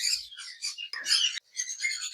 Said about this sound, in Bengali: অনেক সুন্দর সানকোনোর পাখি